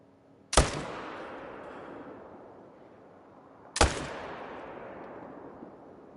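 Two loud hunting rifle shots at wolves in theHunter: Call of the Wild crack about three seconds apart, each followed by a long rolling echo fading across open terrain, with no talking.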